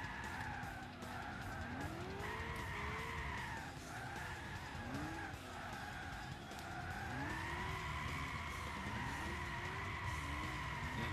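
A 1965 Shelby GT350 drift build in Gran Turismo 6 spins its rear wheels through a long drift, the engine revving and rising in waves while the tires squeal continuously, loud and steady.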